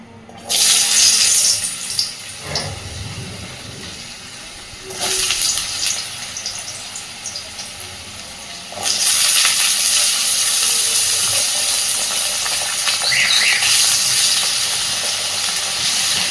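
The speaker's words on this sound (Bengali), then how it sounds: "এবার আমি প্রথমেই তেলের মধ্যে দিয়ে দেব আলু" Potatoes drop into hot oil for ghugni, sending loud hissing bursts that settle between additions, then swell into a sustained, roaring fry for the last several seconds.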